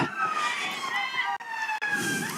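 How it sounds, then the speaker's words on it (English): Ambulance sirens wailing in the background near a hospital during a women's T20 cricket match, rising and falling tones under a commentator's speech, cut by two brief drops in level. "Hear the ambulances in the background."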